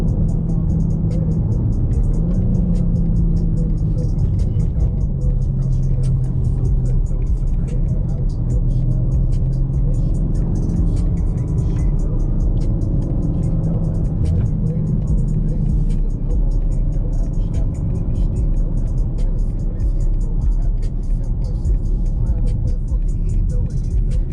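A 2024 BMW M4 Competition xDrive engine hums and revs steadily from inside the cabin, a continuous mid-pitched drone with mild swells, while a person talks over it throughout.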